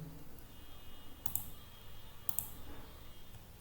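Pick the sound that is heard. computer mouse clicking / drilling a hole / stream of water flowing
computer mouse clicking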